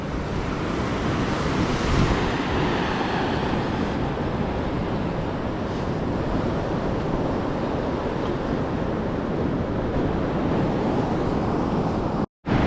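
Ocean waves break steadily on the sand at Old Bar Beach, a dense, continuous surf roar with wind buffeting the microphone, loud and close throughout, cutting out briefly near the end.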